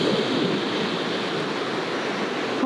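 Sea waves wash steadily onto a beach in a continuous broad roar, close and loud throughout, with a brief scuffing bump at the end.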